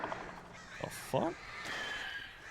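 Crows caw in the Alan Wake video game, two or three harsh, raspy calls in quick succession, moderately loud over faint game ambience, with a person talking intermittently.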